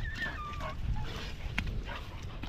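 A dog whimpers and whines in short, high, wavering cries over steady outdoor background noise, somewhere near rice paddy dikes after irrigation.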